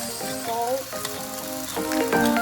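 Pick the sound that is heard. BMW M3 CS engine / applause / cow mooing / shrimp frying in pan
shrimp frying in pan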